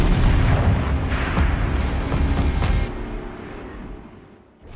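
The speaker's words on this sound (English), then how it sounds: "Rotate turret! And fire!" A turret fires in Horizon Zero Dawn, a heavy booming blast with a rumbling low tail that rolls on for a few seconds before fading out, loud and close.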